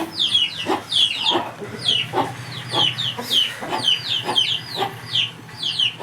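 Chickens cluck and chirp continuously inside a small shed, with overlapping close calls in a steady, busy rhythm and no talking.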